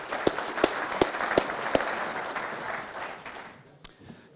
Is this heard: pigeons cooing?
no